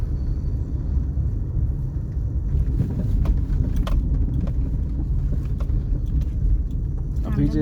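A learner's car pulls away on a city road as the clutch is released, a low steady engine rumble with occasional faint clicks and rattles.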